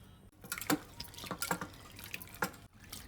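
Dried fish, previously soaked in hot water, rinsed by hand in water: a few soft, close splashes and drips, quiet and irregular.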